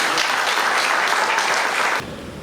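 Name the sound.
audience applause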